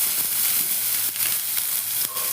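Onions frying in a pan for a quick healthy breakfast, a steady close sizzle and hiss with occasional stirring scrapes.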